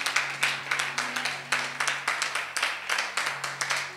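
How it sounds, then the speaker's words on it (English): A church congregation claps for Jesus during a fasting and prayer service, sharp hand claps in a quick, fairly regular rhythm, loud and close, with a faint sustained tone beneath. "Clap for Jesus, somebody."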